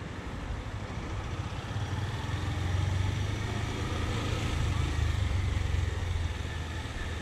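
A low, steady motorcycle engine rumble idling close by, holding an even throb throughout with no revving.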